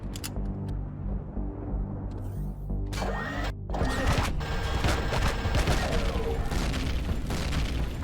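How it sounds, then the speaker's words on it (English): Fuel from O2 tanks blows up in Empyrion Galactic Survival, a cluster of sharp crashing blasts followed by sustained rumbling debris and crackle, loud and near, after a quieter stretch of gunfire and ambient hum. "May have blown up some fuel from O2 tanks"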